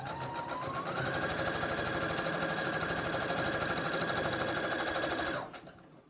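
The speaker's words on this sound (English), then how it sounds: "slowly feed your fabric through and make sure that your stitching and your 1/4 inch seam allowance is what it needs to be" Sewing machine stitching a quarter-inch fabric seam on a beach tote, a continuous fast whirring hum close by that speeds up in the first second, holds steady, then winds down and stops near the end.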